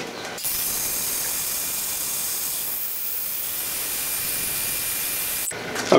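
A restored yard-sale bandsaw runs through a larger piece of material, giving a steady loud whirring hiss that starts abruptly, holds evenly for about five seconds and then cuts off.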